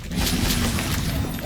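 A Bombarda spell blast erupts in the video game Hogwarts Legacy, a single dense, loud burst of crashing, shattering debris that rumbles for about a second without fading much.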